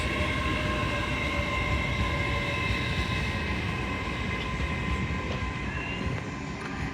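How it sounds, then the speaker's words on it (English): An LNER Azuma train from London King's Cross arriving at Doncaster station on the East Coast Main Line, a loud sustained rumbling roar with a whining engine tone, close by and steady throughout, with no talk. "Also arriving in now will be your 1052 LNER Azuma service to Harrogate from London King's Cross"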